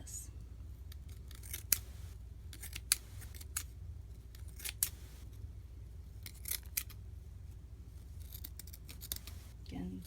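Sharp scissors snip through tulle flower petals for a DIY decoration, a series of quick close crisp cuts scattered irregularly against a quiet background.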